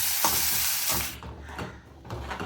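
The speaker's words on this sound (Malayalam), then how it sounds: "അരിഞ്ഞ് വെച്ചിരിക്കുന്ന ഇഞ്ചി ഇട്ട് കൊടുക്കാം ഇഞ്ചി നന്നായിട്ട് മൂത്ത് വരണം" Chopped ginger frying in hot oil in a pan, a loud hissing sizzle that flares at the start and then settles, broken by quick stirring scrapes, close by with no voices.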